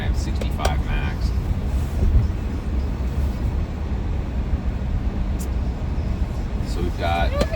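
A Tesla Model Y with AI3 accelerates on a road, a steady broad road and wind rush with faint motor tone throughout, and brief speech-like sounds near the start and end.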